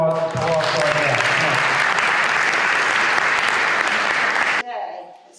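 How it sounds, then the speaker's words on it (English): An audience at a lunchtime talk gives a sustained round of applause for the guests, dense steady clapping that fills several seconds before cutting off, with a voice briefly heard at the start. "Can we have a round of applause for our guests?"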